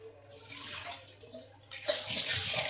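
Wild leafy vegetables from the market are washed in running water, a soft rushing splash that swells louder near the end, close and continuous with no talking.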